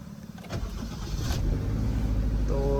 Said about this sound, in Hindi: गाड़ी को मैं करता हूँ स्टार्ट।